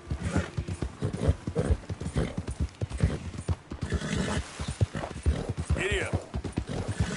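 Horse hooves pound in a steady galloping clip-clop in Red Dead Redemption 2, close and continuous, with a whinny near the end and a rider's voice talking over the ride.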